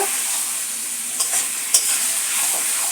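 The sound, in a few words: spicy chicken meat being sautéed in a pan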